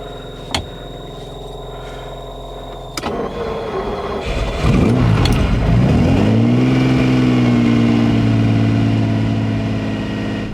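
A Ferrari 512BB cranks and fires up after a couple of clicks, then its engine rumbles loudly and revs as the car pulls away, a strong, sustained roar with a rising tone.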